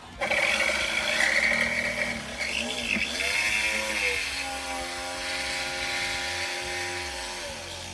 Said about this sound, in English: so I have my jigsaw here